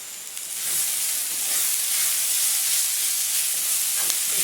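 Crushed ginger and garlic hiss and sizzle in hot oil with chicken for a shallow-fried chicken curry. The frying is loud, close and continuous, with a bright steamy hiss that swells slightly and holds steady.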